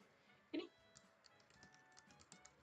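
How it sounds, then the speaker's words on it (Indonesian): Faint computer keyboard keystrokes tick through a quiet room, one sharper tap standing out among a light irregular run of clicks picked up at low level. "masih suara keyboard Anin ketangkep"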